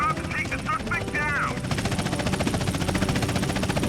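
A helicopter's rotor chops in a fast, steady pulse close by, with a short burst of voice-like chirps early on, in the video game GTA San Andreas.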